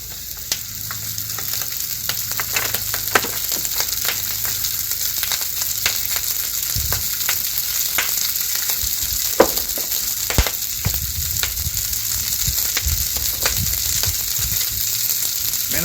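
Pasta fries in oil on a discada, giving a steady, loud sizzle throughout with frequent scraping and clicking from stirring, and no voices.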